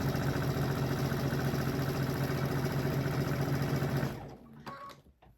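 A sewing machine runs fast and steady, stitching placemat panels and back tacking, a close, loud whirring that stops abruptly near the end, followed by a few quiet clicks and handling sounds.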